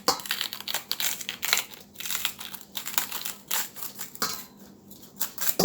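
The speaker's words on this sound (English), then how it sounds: "So I'm gonna cut off the bottom first." A knife cuts off the bottom of a head of pak choy, giving close, crisp crunching and snapping cuts in uneven bursts with brief pauses between them, no voices.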